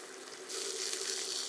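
A steady sizzle of sausage frying in a skillet for a low-carb cabbage and sausage dish, a soft hiss that swells louder about a third of the way in and holds, with no talking.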